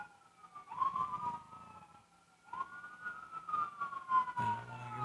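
An ambulance siren passes at a distance, its wail rising and falling over faint street rumble, with low background noise near the end.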